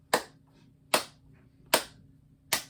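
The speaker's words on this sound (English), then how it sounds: "Just clap." Children clap a steady beat, four sharp claps evenly spaced about once every 0.8 seconds, crisp and fairly close, with quiet gaps between them and no talking.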